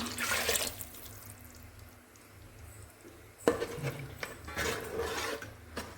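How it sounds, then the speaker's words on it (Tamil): Tamarind water pours and splashes into a pot of fish curry with a soft rushing sound, broken by scraping and a short pause midway, close by with no talking. "இப்போ வந்து புளி தண்ணி சேர்த்துக்கலாம்"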